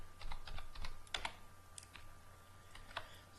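Typing a MySQL command on a computer keyboard: a quick run of light key clicks in clusters, then sparser taps with pauses, close and fairly quiet, with no talking.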